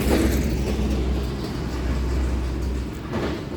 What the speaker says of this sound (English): Really loud truck coming through.